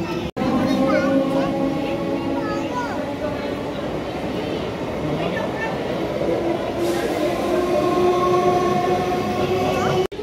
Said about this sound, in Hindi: train horn